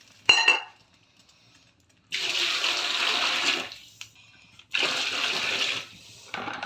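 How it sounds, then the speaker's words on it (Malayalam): Water poured into a pot of cooked meat for Palakkad dum biryani. A sharp metallic clank comes first, then two separate gushing pours of a second or so each. Both are close and fairly loud, with quiet gaps between them. "ഇനി വെള്ളം ഒഴിച്ച് കൊടുക്കാം."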